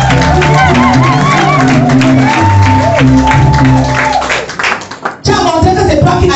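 A church congregation claps and cheers loudly all at once, dense applause and shouting voices layered over sustained music, briefly dipping before surging again.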